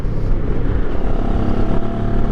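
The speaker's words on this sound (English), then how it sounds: "It's got a nice quiet purr to this twin cylinder engine." Benelli TRX 702X twin-cylinder motorcycle on the move, its engine giving a steady, smooth, loud hum with road and wind rumble under it, and no voices.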